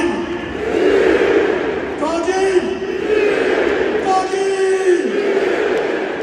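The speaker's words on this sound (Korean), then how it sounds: "함성이 워낙 커서 경기장이 떠나갈 듯했습니다." A large football crowd in France roars and cheers loudly at a goal, with rising chants and whoops echoing as in a packed stadium.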